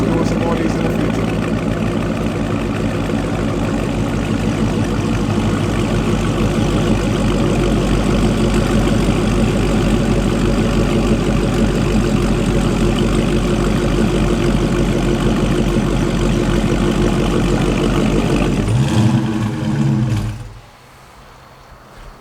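A Dodge Charger with a 6.4-liter V8 and AWE aftermarket exhaust idles loud and close with a deep, steady rumble, swelling briefly toward the end before cutting off abruptly into quiet.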